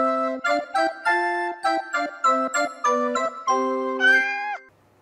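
A cat meows in a rapid series of about ten short, clear tonal calls, ending with one longer drawn-out meow, close and loud with no talk over it.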